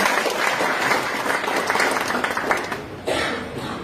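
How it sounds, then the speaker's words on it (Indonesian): Audience applause for Pak Nur Khalid fills the room at an Eco Rising event, steady dense clapping from a crowd that dips briefly near the end before rising again. "Aplaus dulu dong buat Pak Nur Khalid."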